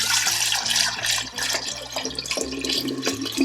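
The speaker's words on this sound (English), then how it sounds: "Now I'll pour the ginger liquid carefully into the jar." Warm homemade ginger liquid for Caribbean ginger beer is poured into a jar in a close, steady trickling stream, the gurgle shifting in pitch as the jar fills.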